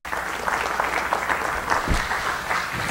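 Audience applause greeting a speaker at a Chippewa Cree language and culture gathering, a steady, dense wash of clapping from a nearby crowd that holds evenly for the full few seconds.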